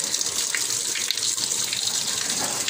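Tap water runs steadily and loudly into a sink to soak a towel for wiping down a top-load washing machine with vinegar. The gushing stream is close and continuous, with no talk.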